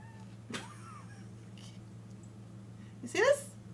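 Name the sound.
cat meowing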